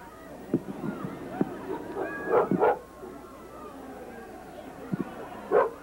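A sled dog puppy at an outdoor hot air balloon festival gives small yips and barks, scattered and fairly near, mixed with crowd chatter and people talking.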